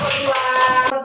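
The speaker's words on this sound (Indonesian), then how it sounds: "tepuk tangan dulu untuk kelompok" Classmates in a fourth-grade classroom give a group a short round of clapping, a quick burst of tightly packed claps that fills about one second and then stops.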